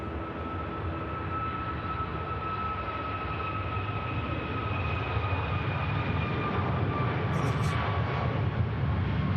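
A Qatar Airways Boeing 787 departs Manchester Airport for Doha, giving a steady, broad jet-engine roar from a distance that swells slightly as it goes on.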